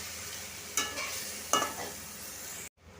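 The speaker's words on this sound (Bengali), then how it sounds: "মাছের মাথাটাকে সুন্দর করে মশলার সাথে কষা নিছি" A fish head sautés with spices in a pan, making a soft, continuous sizzle with two quick stirring scrapes, then a brief pause at the end.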